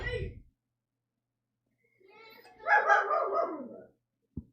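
Dogs at home bark while children play with them, a single close burst of yapping after a long quiet pause, ending with a short knock.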